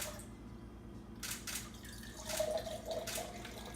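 Water being poured into a glass, a quiet trickling splash with a few soft bursts of liquid against the glass, close and faint.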